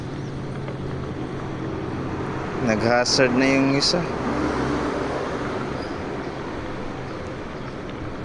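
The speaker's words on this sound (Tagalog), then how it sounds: "Kahit maulan, dami pa rin bumabiyahe ng mga motor." Wet road traffic before dawn in the rain, motorcycles among steady vehicle rumble with a louder machine passing mid-way, as someone talks over it.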